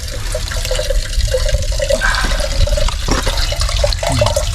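Continuous rushing trickle of water pouring steadily from a leaf used as a spout on a Hong Kong hiking trail, close and fairly loud, with no voices.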